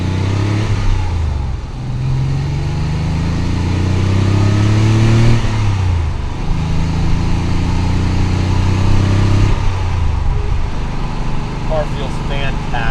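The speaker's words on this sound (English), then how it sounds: "we're not all the way warm yet, but I'll give it some throttle." A 1991 Porsche 911 Carrera 2 Cabriolet engine, not fully warm, roars loudly as it accelerates through the gears, pitch climbing and dropping with each shift, heard from inside the car.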